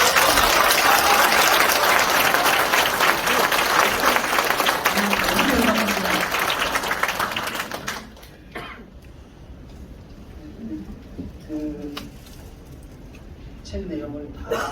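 An audience at a law book author talk in a workers' cultural centre in Gumi breaks into dense, loud applause for about eight seconds, then it cuts off abruptly into quiet room noise with a few scattered claps and murmurs.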